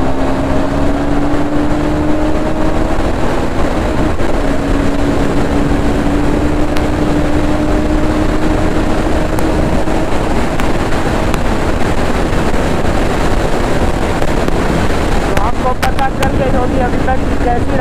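NS 200 and Pulsar 220 motorcycles ridden together along a highway, their engines holding a steady rising drone under constant heavy wind rush, with a brief rougher burst near the end.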